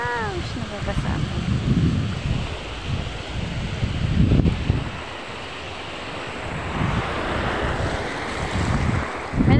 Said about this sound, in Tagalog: Kasi dito bumubukas yung alon.